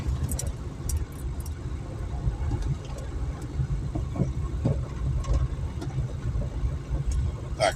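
A car driving along a detour road in Będzin, Poland, steady low engine and road rumble throughout with occasional faint clicks and rattles inside the cabin, continuous and moderately quiet.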